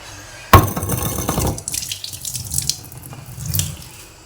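Fish from Veer dam are soaked in water in a vessel: a sudden loud gush of running water, then intermittent splashing and sloshing bursts, close up with no talk.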